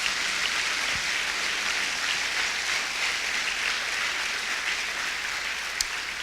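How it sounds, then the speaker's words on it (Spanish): A church congregation applauds steadily throughout, a dense even wash of clapping heard from a moderate distance with no voices over it. "Dele un aplauso al Señor así fuerte."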